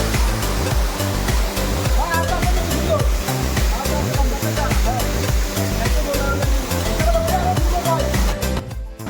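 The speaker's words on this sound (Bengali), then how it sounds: "আজকে বৃষ্টি হওয়ায় ঝর্ণায় অনেক পানি প্রবাহিত হচ্ছে।" Jherjheri waterfall running heavy with water after rain: a loud, continuous, close roar of falling and rushing water fills the whole stretch, with some tonal, voice-like sound woven through it.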